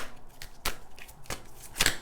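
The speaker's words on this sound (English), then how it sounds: "I'm just going to shuffle these cards" Tarot cards are shuffled by hand in several quick riffling bursts, with crisp snaps and pauses between them, close and clear with no talking.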